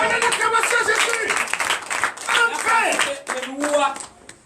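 Rhythmic clapping by a congregation at a French-language church worship service, bright sharp hand claps mixed with lively sung or chanted voices, loud and close, with the voices fading near the end.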